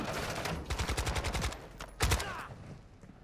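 Dense bursts of automatic gunfire in the video game Modern Warfare 2 DMZ, rapid rattling volleys followed by a second loud burst, with no talk over them.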